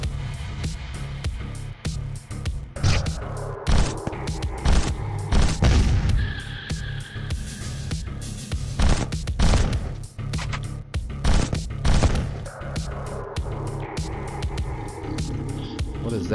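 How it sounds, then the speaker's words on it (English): Heavy weapon blasts and booms from the PS4 video game Neurovoider, a sniper-rifle-like gun firing amid busy game effects, loud thumps scattered through the clip under a voice talking. "It's like a sniper rifle."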